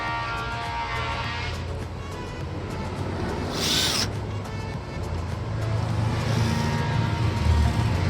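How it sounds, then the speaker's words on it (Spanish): A power drill boring a hole for an electric lock, a continuous loud whirring drone that rises and shifts in pitch over several seconds, close and without speech. "Voy a perforar aquí un hoyo."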